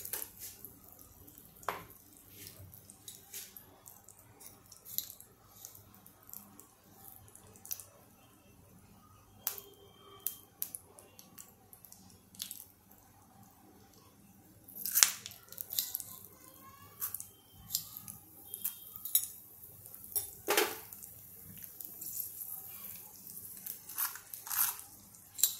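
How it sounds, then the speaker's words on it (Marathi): Mustard seeds splutter in hot oil in a pan, with scattered sharp pops and crackles, faint and irregular, growing busier toward the end. "मोहरी फुटायला आलेली आहे."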